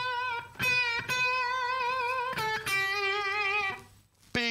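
Electric guitar picked with a 5p coin, giving sustained distorted notes with a metallic edge, plucked one after another with short gaps, close and clear.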